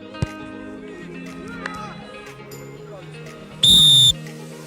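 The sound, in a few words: referee's whistle blown for a penalty in a youth football match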